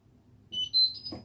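Indesit Innex washer dryer chiming as it powers on, a short rising sequence of bright electronic beeps close by over a faint low hum, no voices.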